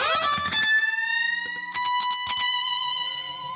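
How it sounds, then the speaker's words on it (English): A bright electric guitar plays chiming notes and quick chords, washed in lush stereo plate reverb with a short slapback echo trailing each note. "classic electric guitar sound I wanted to try. So it had some like stereo plate reverb on it."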